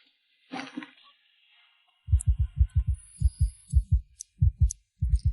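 A clock ticks in a steady, heartbeat-like double rhythm, loud and close, following a brief higher tone near the start.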